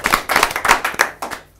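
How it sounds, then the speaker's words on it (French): A small audience at a tropical carnival event claps briefly, a short burst of roughly a dozen sharp, close handclaps that thin out and fade within two seconds. "Ils ont applaudi quand même."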